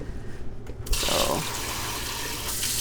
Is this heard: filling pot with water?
yes